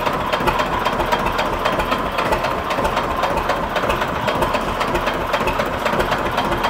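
A small tractor engine runs steadily nearby with an even, rapid diesel clatter and knock that holds without change, alone and without speech.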